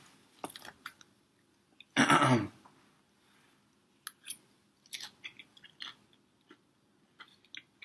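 Someone eating crunchy, moist chilaquiles close to the microphone, with scattered crunchy bites and chewing sounds, one louder bite burst standing out among quieter mouth noises.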